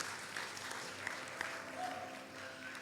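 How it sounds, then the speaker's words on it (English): Wedding guests clapping in a steady, fairly quiet patter that runs the whole moment, with a few sharper claps standing out and faint voices mixed in underneath. "How about a round of applause for our son-in-law, Tim?"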